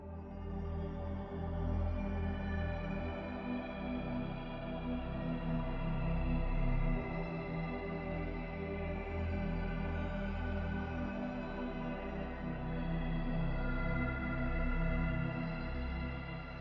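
A lush aurora pad synth built in Serum 2 swells and shimmers as one dense, continuous chord wash. Steady and full throughout, with no voices.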